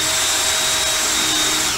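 Power drill boring through the metal chassis of an amplifier to fit Speakon outputs, a loud steady whirring whine that holds close and constant with no talk.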